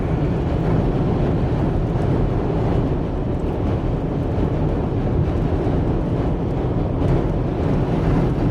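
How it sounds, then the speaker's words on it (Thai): Strong wind during a long-distance drive across America: heavy, steady buffeting roar against the microphone, loud and constant, with a low rumble and no talk. "ลมแรงมากมาก ๆจริงๆ"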